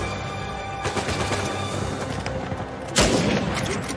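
Gunfire in an Uncharted 4 firefight set in Madagascar, with an AK-47 among the weapons: a dense, continuous run of shots and bursts, then one loud, sharp blast near the end.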